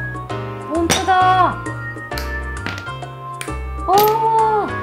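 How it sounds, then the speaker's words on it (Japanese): A pane of scored glass snapped by hand along its cut line, producing sharp clinks and tapping cracks in two main bursts, close up, with people talking in between. "この線の通りにガラスが簡単に割れます。"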